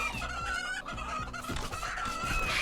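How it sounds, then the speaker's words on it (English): Chickens cluck and a rooster calls in the RimWorld video game, a busy run of clucks and short crowing cries in a repeating, game-like pattern with no talking over it. "I do not want you to let the chicken in."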